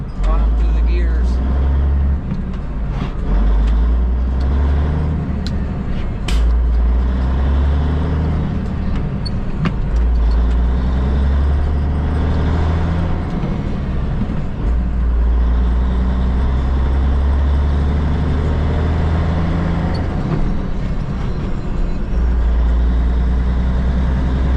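An Aerodyne cabover truck runs with no muffler, its loud, raw engine rumble droning close throughout as it pulls through the gears, with pitch shifting between gears and voices faintly underneath.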